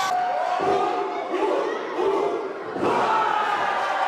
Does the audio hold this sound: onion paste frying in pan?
no